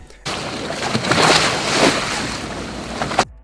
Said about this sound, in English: I found the sound of waves hitting a boat, exactly what I needed